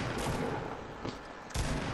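Shotgun blasts in Fortnite Season 5, a few broadband bursts with one heavy blast near the end over a steady noisy game background, moderately loud and somewhat distant.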